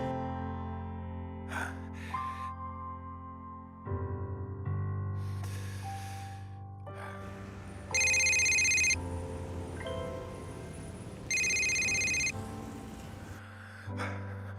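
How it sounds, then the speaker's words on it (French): A telephone rings in a French romantic drama film. Two loud bursts of electronic ringing sound over a tense, quiet musical score with some breathing. "Réponds au téléphone."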